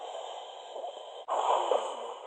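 A voice mimics a father's snorting sleep breathing: a drawn-out exhale, a sharp break, then a rougher, louder snorting inhale heard up close.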